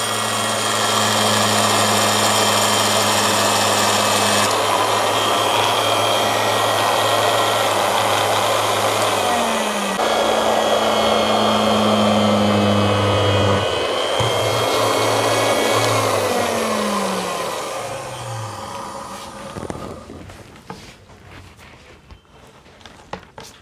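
A tailoring cloth cutting machine runs steadily with a strong motor hum and harmonic drone, shifting pitch slightly while its blade is sharpened in place, then winds down and stops near the end, heard alone without talk.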